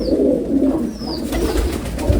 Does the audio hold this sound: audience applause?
no